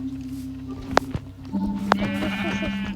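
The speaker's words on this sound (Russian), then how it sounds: "Овца!" A sheep in Minecraft lets out a clear, wavering bleat at close range over a steady low drone, with a few sharp clicks just before it.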